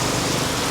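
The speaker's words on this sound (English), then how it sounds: "It's coming down again, monsoon style. Look at that nasty rain." Heavy monsoon rain pours down on a Saigon street, heard from under an awning as a loud, steady, unbroken roar of water.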